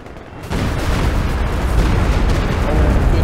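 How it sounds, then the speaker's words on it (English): An artillery barrage in a real-time strategy battle, a 2v2 tournament match with a tier 4 unit shelling from a distance, comes in as a dense, continuous rumble of booms after a brief quieter start and stays loud throughout. "Good barrage there this time."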